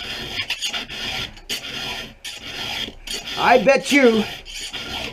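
A hand file rasps in short repeated strokes across chainsaw chain teeth, a close scraping rhythm with brief gaps between strokes and someone talking over the later strokes.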